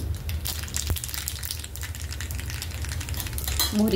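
Mustard seeds crackle and pop steadily in hot oil with asafoetida, a dense sizzling spatter with occasional sharper pops, close and fairly loud, no voices.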